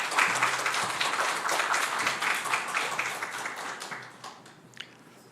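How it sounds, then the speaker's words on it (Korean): A church congregation applauds in a dense wash of clapping that slowly fades out over a few seconds. "큰 박수로 환영해 주시면 감사하겠습니다"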